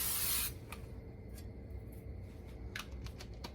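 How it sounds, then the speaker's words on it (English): Coconut oil cooking spray hisses into a pan on the stove in one loud, close burst of about half a second, followed by quiet small clicks and handling noises. "I've got some coconut oil spray."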